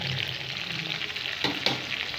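Ground spice paste frying in hot oil with onions for a beef kosha curry, a steady close sizzle with a couple of sharp stirring clatters near the end.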